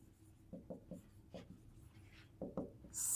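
Pen strokes on paper while working through linear equations by hand, a series of short scratchy bursts in irregular rhythm, close and fairly quiet with no talking.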